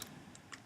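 Someone types briefly on a computer keyboard. A few soft key clicks sound close by and at low volume.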